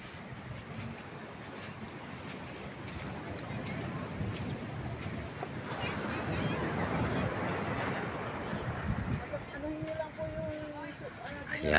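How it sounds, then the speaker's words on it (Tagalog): Strong surf rolling onto Sulok Beach in General Nakar after rain, a steady broad wash of breaking waves with wind noise on the microphone, swelling louder midway, while a person talks over it. "kasi malakas ang alon, no? Dahil umulan."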